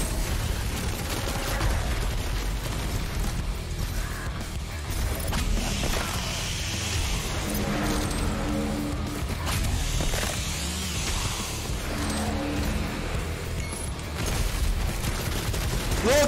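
Relentless shotgun blasts and full-auto gunfire from a super shotgun and automatic weapon in the Doom Eternal video game, a dense continuous barrage of loud shots mixed with game action and explosions throughout.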